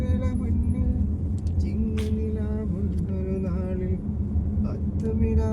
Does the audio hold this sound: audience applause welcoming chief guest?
no